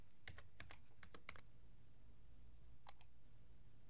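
Typing on a computer keyboard, close and quiet: a quick run of about a dozen crisp key clicks, a pause, then two or three more taps, with no voices.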